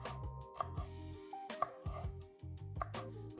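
A knife chops onion on a cutting board in a quick, uneven run of close thuds, with short pauses between bursts.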